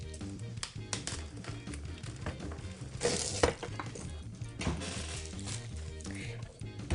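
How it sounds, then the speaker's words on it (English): A Gina K Fuse foiling machine is pulled from its packaging, with close, quiet taps, rustles and crinkles of packing material and a sharper clatter in the middle. "Let's go ahead and get it out of the packaging."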